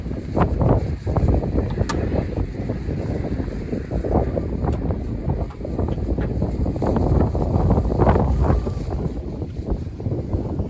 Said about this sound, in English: It is raining so hard right now, and it is blowing wind.